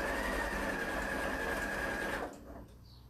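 A sewing machine runs through fabric with a steady, close whir for about two seconds, then stops, leaving only quiet room tone.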